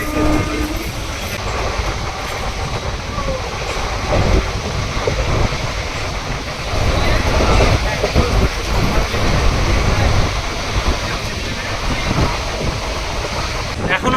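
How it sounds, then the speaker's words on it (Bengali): A local train from Kolkata to Digha runs at close to 100 km/h, giving a loud, constant rumble with rhythmic wheel clatter and wind buffeting, heard from onboard with faint talking. "এখন কিন্তু আমাদের ট্রেন ভালো স্পিডে টানছে"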